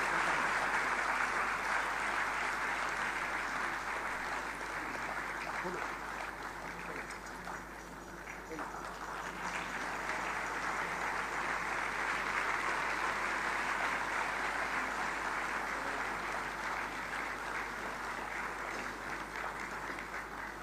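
At a hospital institute's foundation day inauguration ceremony, a large audience applauds as one continuous, dense roar of clapping that carries on steadily for about twenty seconds, dipping slightly midway.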